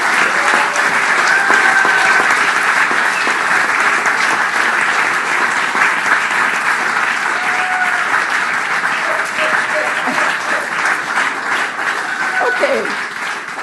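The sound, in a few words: audience applause for staff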